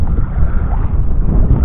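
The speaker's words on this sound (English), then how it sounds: "It's super windy, like I told you." Loud, low rumbling coastal wind at South Padre Island buffets the microphone continuously, a heavy roar with no other clear sounds.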